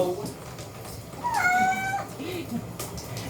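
A wet cat being bathed lets out one drawn-out, rising plaintive meow, moderately close, with a person speaking softly around it.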